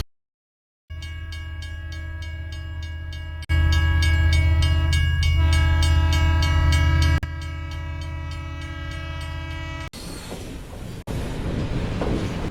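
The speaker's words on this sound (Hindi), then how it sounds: "ट्रेन वहां से चल पड़ी" A train on the Delhi to Jammu Tawi route sounds a long, loud horn with strong sustained tones that cut off abruptly, followed by rumbling rail and wagon noise as it moves, with no talking.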